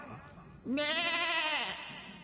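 A goat in the video game Elder Scrolls Online lets out a single loud, wavering bleat lasting under a second, set against a quiet ambient background.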